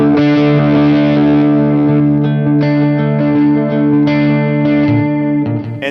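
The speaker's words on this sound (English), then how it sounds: "When you're picking, you're going to be playing these lower notes." Electric guitar picking the lower notes of chord variations for the Hillsong song "In God We Trust," played through effects with distortion and chorus; sustained, layered notes ring steadily and loud, with no voices.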